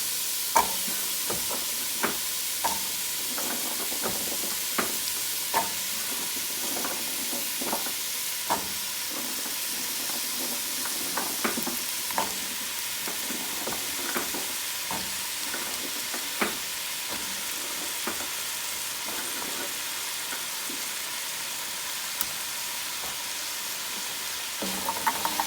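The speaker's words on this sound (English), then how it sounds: "these have been sauteing for a couple of minutes, and I'm gonna add the rest of my vegetables now" Carrots, potato and butternut squash sauteing in a soup pot give a steady sizzling hiss, broken by frequent sharp clicks and taps of stirring, close and even throughout with no talking.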